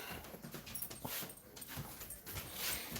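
A dog whimpers and yips softly at feeding time, short whiny cries mixed with faint rustling and panting, fairly close and without talk.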